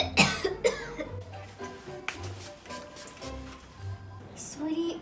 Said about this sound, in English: Sweetie, please cover your mouth when you cough.